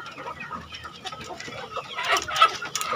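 A flock of village chickens pecking at finely chopped cassava leaves clucks continuously at close range, the chatter growing busier and louder toward the end.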